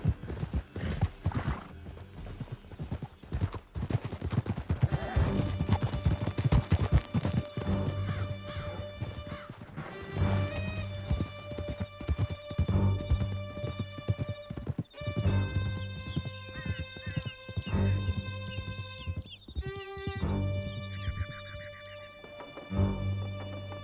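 Horses gallop in steady clip-clop hoofbeats through Red Dead Redemption 2, with an occasional whinny over a continuous orchestral music bed and scattered thuds, loud and close throughout.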